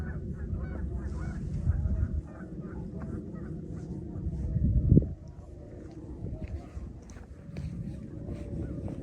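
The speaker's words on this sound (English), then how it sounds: "There's some Canadian geese in the field" Canada geese honking in a farm field at sunrise near Middle Creek in Lancaster County, Pennsylvania, a dense flock calling continuously at mid distance, rising to a louder burst of honks midway, with faint talk underneath.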